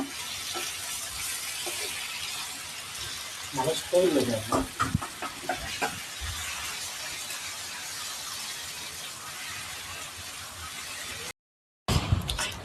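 Prawns stirred and fried in a pan for a home-cooked prawn biryani: a steady broadband sizzle runs throughout, with a cluster of scraping stirs in the middle and faint background voices.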